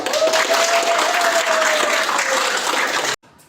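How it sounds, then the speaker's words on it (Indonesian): A group claps together after an icebreaker round in an Indonesian training session: dense, steady applause close by for about three seconds, then it cuts off abruptly to near silence. "Rizal, Nabhan, Keisha, Fani, Yasa, Kia. Oke, kita kasih aplaus."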